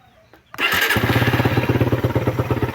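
After a quiet moment, a Suzuki Raider 150 motorcycle engine with a knocking fault fires up abruptly and settles into a loud, steady, chugging idle close by.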